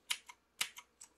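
Three quick pairs of sharp key clicks from a computer gaming keyboard with RGB lights, close and crisp against a quiet background.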